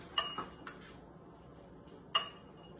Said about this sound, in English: Then I'm just gonna mix everything together.